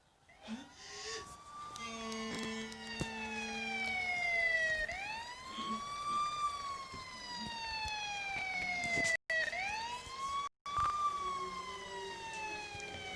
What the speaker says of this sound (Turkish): Yürü sirenleri açalım bari.